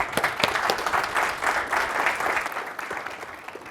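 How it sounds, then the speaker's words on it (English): Audience applause at a conference session on virtual reality and 360-degree live streaming: a steady wash of many hands clapping, fairly close and sustained, fading slightly toward the end. "Let's get a hand of applause."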